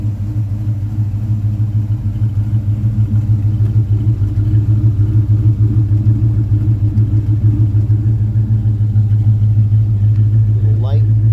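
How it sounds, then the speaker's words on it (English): A 1959 Chevy 3100 pickup truck idles with a steady, deep low rumble that holds loud and even throughout, close by, with faint talk beneath. "She does give you a little rumble at the traffic light."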